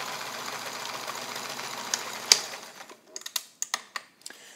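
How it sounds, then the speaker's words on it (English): Kenmore model 1430 all-metal sewing machine, made in Japan, stitching through fabric: a steady close mechanical whir for a couple of seconds, then it stops and a few sharp clicks and knocks follow. "And we'll sew through this, and I really don't expect to have any problems at all"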